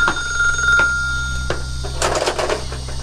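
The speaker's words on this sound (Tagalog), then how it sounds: "Madam, telepono." A telephone rings in a household setting in an Ilocano drama, with bell-like bursts and a steady tone amid room noise; no speech is heard.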